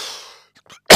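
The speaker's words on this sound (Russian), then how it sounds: "Извините, пожалуйста, за кашель." A single person coughs up close, a short sharp burst at the end after a brief breathy pause and faint throat sounds.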